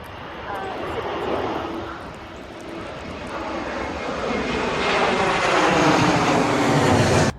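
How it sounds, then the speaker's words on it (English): A fixed-wing airplane passes overhead through a San Antonio, Texas suburban neighborhood, its broad engine roar swelling steadily louder over several seconds before cutting off abruptly, with no speech over it. "oh, another airplane is coming"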